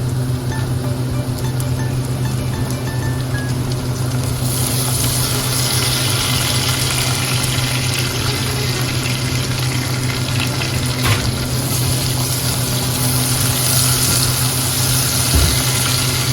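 Chopped tomatoes frying in a pan of chana dal with bottle gourd, a loud, steady sizzle like rushing water that holds throughout with no talking over it.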